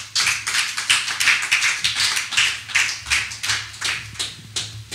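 A church congregation claps in rhythm to acclaim the Lord, steady quick handclaps in an even pulse, close and lively, with little or no talking.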